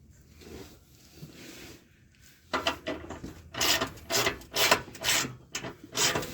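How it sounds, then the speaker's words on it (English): Steel bumper bolts on a Jeep JK being tightened with a hand tool: a series of rhythmic rasping, ratcheting strokes that grow louder and more regular after a quieter start, close by with no talk. "what he's tightening is these bolts right here that hold the side of the bumper"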